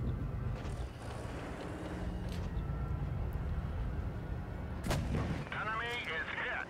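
Tank gun fire in the mobile game World of Tanks Blitz, an IS-4 engaging near a building: low engine rumble and battle noise, then a sudden loud cannon blast followed by crackling debris and ringing aftermath.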